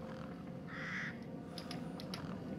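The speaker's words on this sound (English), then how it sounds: "Oh, bird." A single harsh, crow-like caw of a bird rings out briefly in Resident Evil Village, fairly faint over a steady low ambient drone, followed by a few small high chirps.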